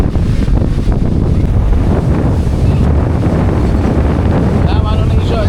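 Strong wind buffets the microphone at the sea, roaring loud and close over steady surging waves, with no break.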